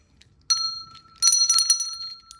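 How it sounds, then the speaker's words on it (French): A worn little bell rings once, then a quick cluster of three or four rapid strikes follows, bright and tinny, near and fairly loud with nobody speaking. "c'est un bruit de pauvre cloche"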